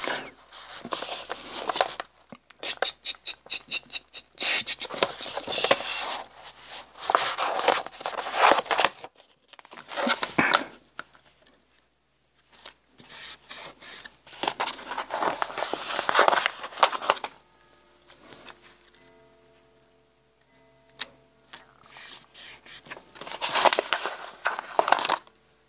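Chipboard being cut gives close bursts of crunching, scraping and snipping in irregular runs separated by short pauses, with quieter rustles between cuts.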